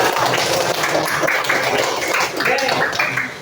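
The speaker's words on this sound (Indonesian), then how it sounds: "tepuk tangan buat Rasya" Classroom applause during an Islamic studies lesson as students clap for a classmate, a steady patter of small hands mixed with chatter and voices throughout.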